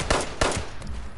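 Gunfire in Fallout 76 comes as two sharp, loud shots close together, followed by a softer third burst and a low rumbling tail, in a quick, close skirmish.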